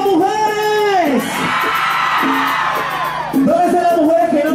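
A concert crowd of women at an anniversary show with an orchestra shouts and whoops loudly, with long rising yells and cheers that swell in waves, while a voice calls out over them at the start and end.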